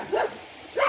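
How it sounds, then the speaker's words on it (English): A dog barks twice, spaced apart, moderately close and fairly loud, outdoors on a hike with no talk over it. "The dog ain't gonna shut up until I'm gone."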